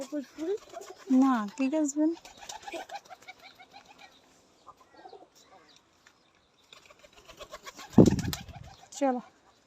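Pigeons coo in a cage in a house yard with low, rolling calls that come in short bursts, along with a brief flutter of wings. People talk nearby in between.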